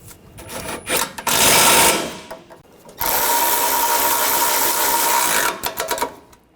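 A power tool whirs in two bursts, one short and one longer steady run, while tightening bolts on the front bumper impact absorber of a 2013-2019 Ford Escape, close and loud with quick clicks and taps between.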